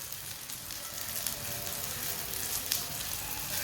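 An omelette paratha fries in oil on a pan with a steady, dense sizzle throughout, close and even in level, with no voices.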